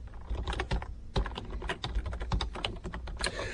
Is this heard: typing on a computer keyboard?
yes